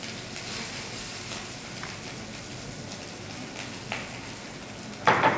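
Cold cooked rice fries in a little oil in a wok, giving an even, soft hiss like light rain, capped by a brief louder sizzling burst near the end.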